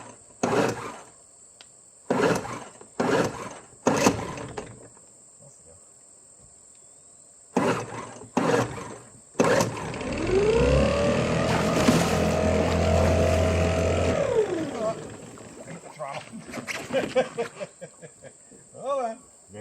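Old 1960s mid-engine mini boat engine cranks in short repeated bursts, then catches and runs loudly for a few seconds before dying back, with brief talk around it.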